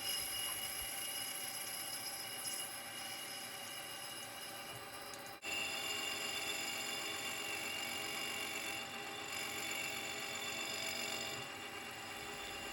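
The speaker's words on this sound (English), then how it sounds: "the next job is to machine the aluminium sprocket to the same size. I take several cuts" An aluminium sprocket bore being machined on a lathe, a steady continuous whir of spindle and cutting with tonal ringing, one brief dip in the middle, then the cut resumes at constant level.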